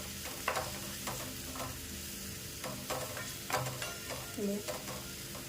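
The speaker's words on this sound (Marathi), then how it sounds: "ही जी मी फुलं बारीक चिरून घेतली आहे ते टाकवणार आहे आणि परतून घ्यायचा आहे" Finely chopped hadga (hummingbird tree) flowers tossed with masala in a pan, a soft steady sizzle broken by several sharp spatula scrapes and stirs at close range, with no talking.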